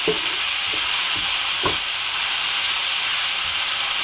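Butter sizzling in a frying pan with a dried mushroom sauté, a steady broadband hiss with a few soft stirring knocks, close and continuous, no talking.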